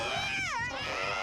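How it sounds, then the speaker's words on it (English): A cat's drawn-out yowl in a horror film scene, one rising and falling wail lasting about a second, loud and close against a low rumbling background. "That must be a mean cat she's got back there."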